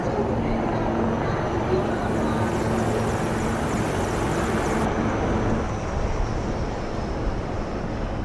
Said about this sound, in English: 2 Apache helicopters and 2 advanced light helicopters, Mark IV aircraft in echelon.